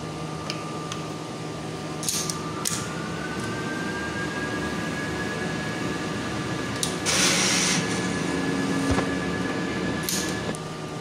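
A mechanical whir hums steadily with a faint rising tone, broken by a few short clicks and clacks as a Mutoh printer runs its head-cleaning cycle.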